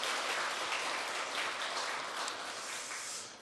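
A church congregation claps together at a Sunday worship service, a dense, steady wash of applause held at an even level before tapering off slightly at the end, with no talk over it.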